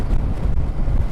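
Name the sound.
wind blowing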